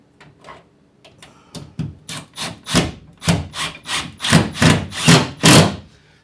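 A Phillips head screw is driven into a drywall shelf bracket at a stud, giving a series of close, rhythmic grinding bursts that grow louder and steadier toward the end.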